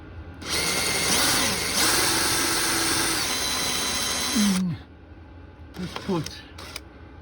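A power drill drilling a hole for a screw extractor whirs continuously for about four seconds, then winds down; a few short bursts follow, with a voice speaking between them.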